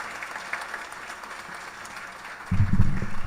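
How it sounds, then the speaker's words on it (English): A crowd applauding at a Mother's Day service in a Krishna Mandir temple, a steady patter of clapping that swells louder and fuller near the end. "Give her a round of applause once more"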